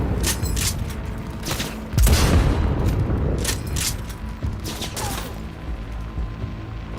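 Gunfire in the video game Cyberpunk 2077, with rapid bursts of shots rattling close and loud and one heavy boom standing out midway through a sustained firefight.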